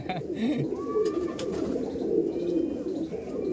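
Soft, low pigeon coos roll on repeatedly, close by, with a few higher chirps and light background rustle.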